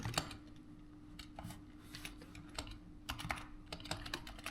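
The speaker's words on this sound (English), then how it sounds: "feels really good to type on." Typing on a Razer Huntsman V2 keyboard, a quiet run of close, crisp key clicks in irregular bursts with a low steady hum behind them.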